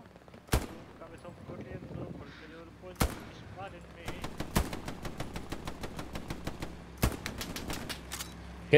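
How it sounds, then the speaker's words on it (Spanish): Machine gun fire in the World War II shooter Hell Let Loose: sharp bursts and single cracks, some near and some more distant, with a rapid rattling stretch in the middle, under occasional quiet talk. "Están pegándole con una MG."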